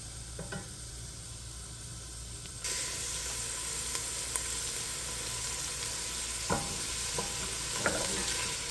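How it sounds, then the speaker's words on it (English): Onions, peas and potatoes fry in a pan with a steady close sizzle that grows louder partway through, while occasional scrapes and clicks of stirring break through. Nobody speaks. "Make sure you're constantly stirring so nothing is sticking."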